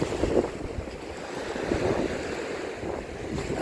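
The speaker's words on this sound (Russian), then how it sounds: "Вот вам и море" Stormy sea with waves surging and breaking on shore under a cold wind, a continuous rushing roar with gusty wind buffeting the microphone, no voices.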